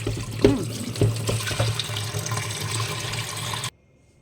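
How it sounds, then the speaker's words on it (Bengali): Tap water runs steadily into a kitchen sink while fish pieces are put to soak, a continuous close splashing flow that cuts off abruptly near the end into silence. "এই যে মাছটাকে একটু জলে দিয়ে দেওয়া আগে"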